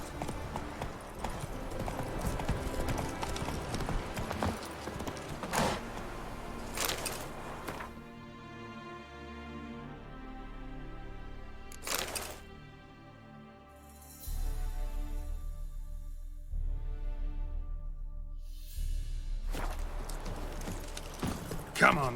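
Hooves of Roach, a horse in The Witcher 3, clip-clop in a steady rhythmic trot, fairly close and clear, with game music and ambience underneath and brief pauses between stretches of hoofbeats.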